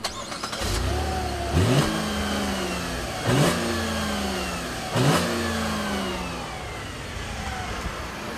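A 2014 Buick LaCrosse engine accelerating at full throttle, a steady mid-pitched rising drone with three distinct upshifts where the revs drop and climb again, fairly quiet and heard alone.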